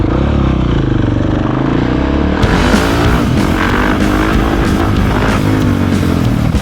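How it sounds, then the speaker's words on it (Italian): A 690 motorcycle engine on a street in Naples runs with a close, throbbing drone that gives way after about two seconds to a louder, rougher roar. No one talks. "Che figata di moto, raga, sto 690"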